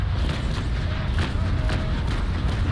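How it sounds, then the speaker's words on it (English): Naval Action video game carronades fire in a ragged broadside, several muffled booms spread across the stretch under steady low rumble, fairly distant rather than sharp. "Aim, fire! Carronades, ready, aim,"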